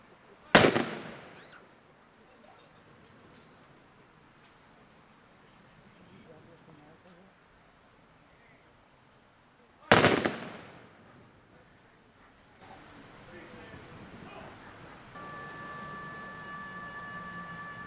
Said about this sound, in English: Now call on the fire squad.